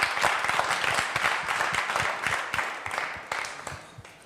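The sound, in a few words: audience applauding at a gospel music show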